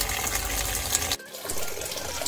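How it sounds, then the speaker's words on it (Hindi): Water pours from an Aquaguard purifier into a pet fountain as a continuous rushing, bubbling fill, close and fairly loud, briefly cutting out for a moment near the middle before resuming. "तो दोस्तों जब तक पानी भर रहा है"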